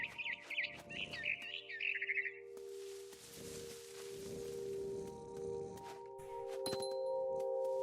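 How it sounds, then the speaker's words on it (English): A frightened bird chirps in quick, bright bursts up close during the first two and a half seconds, then the calls give way to a steady hum and scattered rustling. "I tried to be quiet, but the bird was really scared"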